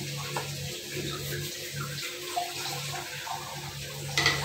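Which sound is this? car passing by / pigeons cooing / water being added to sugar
water being added to sugar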